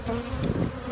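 Honey bees buzz at an open hive outdoors on a windy day before a tropical storm, a steady close drone that fills the brief moment.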